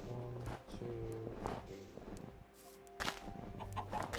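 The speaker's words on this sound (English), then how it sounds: "Oh, chickens." Clucking chickens in Minecraft Bedrock, short repeated tonal bursts over a busy game soundscape with footstep-like clicks and other effects, moderately loud with no voice.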